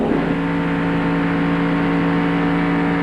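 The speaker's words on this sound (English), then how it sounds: "We can hear the engine" A race car engine roars at the 1995 Daytona Pepsi 400, a steady, sustained high-revving drone with strong harmonic whine held continuously at full throttle, loud and close.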